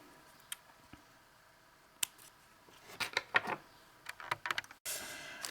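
Scissors snip through crochet yarn on a handmade summer hat, giving a few crisp, close clicks and short rustling cuts in a quiet room, ending in a brief burst of handling noise.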